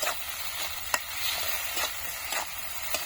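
Onions sizzle steadily in a hot pan with salt, a dense broadband crackle broken by a few sharp stirring scrapes, close and alone with no talking.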